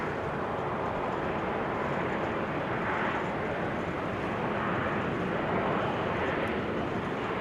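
A Boeing 787 Dreamliner airliner at Amsterdam Schiphol produces a steady, broad jet engine roar, continuous and moderately loud throughout with no clear breaks.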